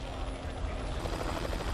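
Rescue helicopter flying close to a red-hot billowing volcanic ash cloud during the Montserrat eruption, a steady loud rotor and engine drone throughout, with a hint of voice mixed in.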